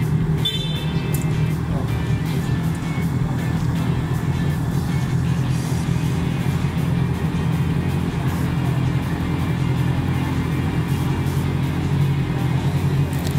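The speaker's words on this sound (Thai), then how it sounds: "อันนั้นคือเสียงตัวที่ 650F ครับที ่เปลี่ยนท่อไอเสียมา" Loud, steady droning of a Honda CBR650F motorcycle engine with an aftermarket exhaust idling, a deep throaty rumble that holds constant throughout, with faint traffic noise in the background.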